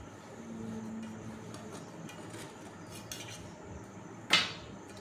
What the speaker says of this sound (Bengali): এটা আমি ছুরির সাইজে এই ধারগুলো আমি কেটে নিচ্ছি।